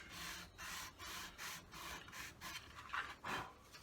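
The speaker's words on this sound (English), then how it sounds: "You need to get it on something flat and just rub it" A small part of a P51 Mustang scale model rubbed on a flat surface, giving repeated rasping strokes in a steady back-and-forth rhythm, quiet and close, with no talking.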